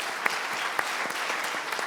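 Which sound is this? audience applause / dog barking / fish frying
audience applause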